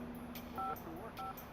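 Cell phone keypad tones beep in two short dialing presses over a steady background hum.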